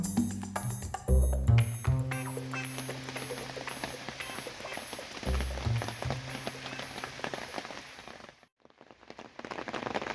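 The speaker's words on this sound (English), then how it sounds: "it's raining a little bit" Light rain falling outdoors on day 3 of a fishing trip at Smallwood State Park in Maryland, a continuous patter of drops with intermittent louder low thumps.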